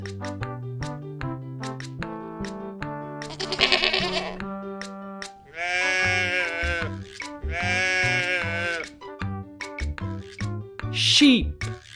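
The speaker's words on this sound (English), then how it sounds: "Sheep." Two long, wavering sheep bleats ring out loud and close, one after the other, while the cheerful music of a children's farm song plays underneath.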